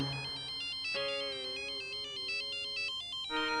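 A telephone plays a bright electronic ringtone, a repeating melodic pattern of tones heard on its own, fairly soft and steady.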